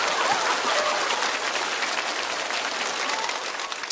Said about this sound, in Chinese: 掌声送给小周